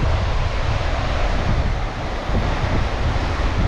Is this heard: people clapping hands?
no